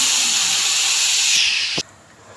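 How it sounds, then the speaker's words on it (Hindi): A loud, steady hissing sizzle for over a second as hot spice tempering is poured onto chicken nihari, then a sharp drop to a quieter hiss. "अब हम इसका तड़का अपनी निहारी पे लगाएंगे"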